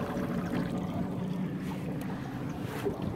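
An electric paddle boat with its motor mounted underwater at the stern moves through water, a steady low churning and splashing wash continuing throughout at close range with faint wind noise.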